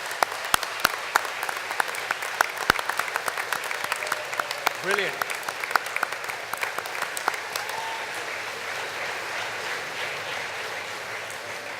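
Graduation ceremony audience applauding in a hall for the Institute of Criminal Justice Studies, a steady wash of clapping with a few sharp louder claps early on, and a voice briefly speaking over it.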